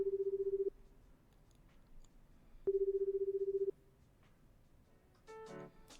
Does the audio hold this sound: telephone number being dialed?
yes